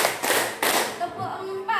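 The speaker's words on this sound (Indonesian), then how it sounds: "Tepuk satu, tepuk satu, tepuk dua, tepuk tiga, tepuk tiga," A class claps in unison during a counting clap game, two sharp, loud group claps landing close together, followed by a voice speaking alone.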